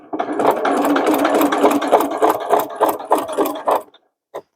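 A sewing machine fitted with a walking foot stitches over a bulky denim seam, with a steady close rhythmic chatter of needle strokes for about four seconds, then it stops with a single click.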